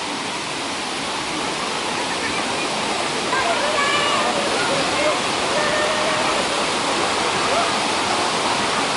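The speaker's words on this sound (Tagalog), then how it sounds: "nandito po tayo sa Kawasan Falls" Kawasan Falls in Cebu pours with a steady, dense roar of rushing water close by, unbroken throughout and growing slightly louder midway, with faint voices beneath the noise.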